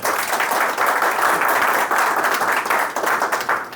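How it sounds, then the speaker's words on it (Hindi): Loud, dense applause from a studio audience welcoming a new episode of a talk show, steady clapping filling the whole stretch without a break. "जोरदार तालियां हो जाए।"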